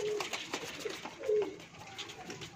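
Pigeons coo softly in a loft where birds are being counted and boxed, low throaty calls repeating at irregular intervals, fairly close and not loud, over light background rustling.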